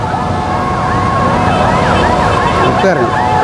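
An ambulance siren wails loud and close in congested roadside traffic near a construction site, its rising and falling tone repeating continuously over the engine rumble.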